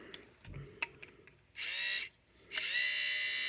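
The small battery-powered motor of a vintage toy X-Wing whirs in two short bursts of high buzzing, each about half a second, after a few faint clicks and taps.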